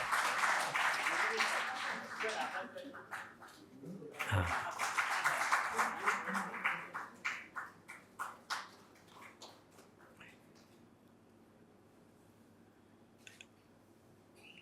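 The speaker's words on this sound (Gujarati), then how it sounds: "આપણે તાળીઓથી આ ક્ષણોને શાશ્વત બનાવીએ" Audience applause at a Gujarati literary award ceremony honouring an author, a loud sustained burst of many hands clapping that thins into scattered claps and fades to near silence.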